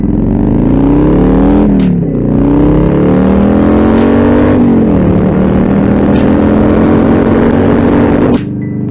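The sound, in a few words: Harley motorcycle engine running after struggling to start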